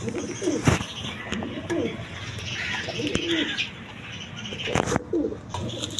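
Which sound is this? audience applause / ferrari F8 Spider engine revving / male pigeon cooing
male pigeon cooing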